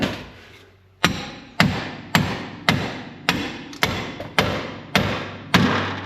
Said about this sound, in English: I wanted to put a weight behind it and hammer on the side